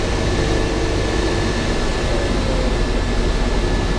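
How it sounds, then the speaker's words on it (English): A large airport shuttle bus carries passengers from the first class lounge to the plane, its engine and cabin ventilation making a steady, even drone throughout. "here we are on our own personal bus ride to our plane."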